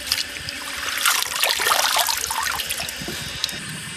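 Wild stonecrop greens are rinsed under running water, a steady trickle and splash that swells and fades as the leaves are moved by hand, close and fairly soft.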